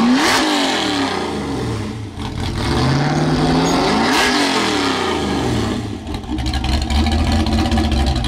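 A Chevrolet Blazer drag build running nitrous revs its engine hard and close, the tone sweeping up and down through several loud climbs over about eight seconds with no talking.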